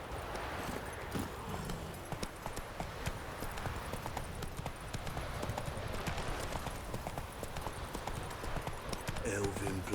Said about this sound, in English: Hello, Roach.